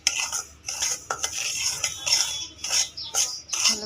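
A spoon stirs semolina in a pan, producing repeated close metallic scrapes and clinks in an uneven rhythm, with a faint sizzle underneath and no speech.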